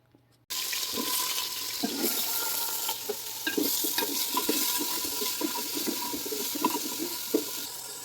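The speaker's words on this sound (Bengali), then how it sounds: "হলুদ দিয়ে মেখে রাখা সবজিগুলো আমি ভেজে নেব ভালো করে" Turmeric-coated vegetables hit hot oil in a cooking pot with a sudden loud sizzle that then hisses steadily, with scattered scrapes and knocks of stirring over it.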